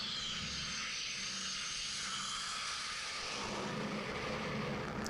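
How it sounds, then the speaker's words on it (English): A naval jet comes in to land on an aircraft carrier deck, a broad steady engine roar and rushing wind that swells slightly as it closes in. "Here comes the plane. You can see it coming in for an approach."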